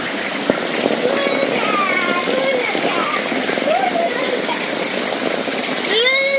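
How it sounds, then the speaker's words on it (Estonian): Water gushing down a staircase at a children's water park on Koh Samui, Thailand, a continuous splashing rush close by, with voices faintly mixed in. "Ma näitan seda treppi, sealt tuleb täiega vett alla."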